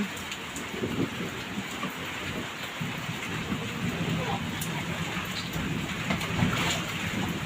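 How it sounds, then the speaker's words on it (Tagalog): Heavy rain pouring steadily onto surfaces outdoors, a dense continuous hiss with scattered drop impacts, moderately loud and unbroken throughout. "Wow, grabe ang ulan."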